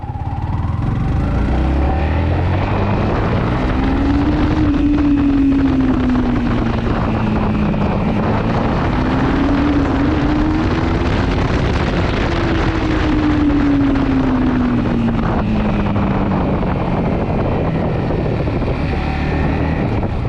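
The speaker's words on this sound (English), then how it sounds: "Sounds really civilized while you are riding it below 7000 RPM. Almost like a scooty, but when you push it, it really screams." Yamaha MT 15 naked motorcycle, a BS6 model with variable valve actuation, riding with its single-cylinder engine rising and falling in pitch through high revs, loud and steady under heavy wind rush with no talk.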